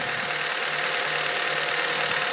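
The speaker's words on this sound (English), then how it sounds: "if this is a healthy cylinder, then the RPM should dip as soon as I pull this out" A Honda-family Acura TSX engine idles steadily with a misfire-testing ignition coil pulled out, giving a continuous close mechanical hum with a faint low rhythmic pulse and no talk.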